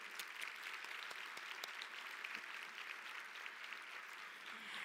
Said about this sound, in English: Let's give each other a round of applause for all the support that we're giving each other.